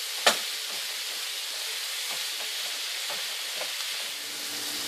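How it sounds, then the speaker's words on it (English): Tomatoes and onions fry together in a pan for butter chicken, sending up a steady, close sizzle with soft crackles and one sharp clink near the start. "And now cook the tomatoes and onions together."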